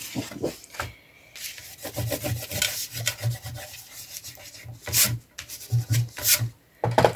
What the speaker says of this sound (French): je vais gommer ça